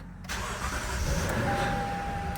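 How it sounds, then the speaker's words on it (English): A Lexus LS460 V8 fires up abruptly from silence at close range and settles into a steady, even idle that continues without a break. "Sounds like a car. Uh-oh, no. It immediately stopped."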